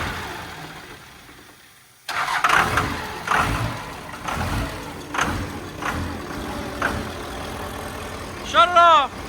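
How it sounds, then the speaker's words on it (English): A flatbed truck engine cranks after a quiet start and fires up, given a little throttle. It settles into a loud, uneven run with repeated surges, and voices are faintly heard. "hit the key, because I'll see if this rig fire up"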